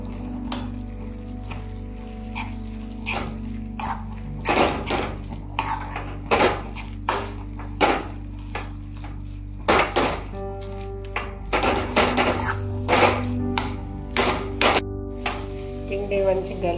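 Flour dough for a Telangana barada dish being mixed by hand in a bowl, with repeated irregular thumps, knocks and clinks against the bowl, close, while a voice speaks at intervals.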